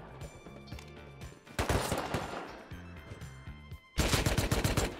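Rapid video-game gunfire in an online shooter match, bursts of automatic shots at a steady rhythm building to a loud, dense volley near the end, with background music underneath.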